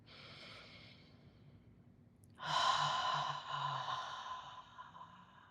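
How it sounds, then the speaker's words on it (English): A deep breath drawn in through the nose and then let out through the mouth during a guided breathing exercise, a soft airy inhale followed by a louder, fuller exhale, close and with no talking. "Take another deep breath."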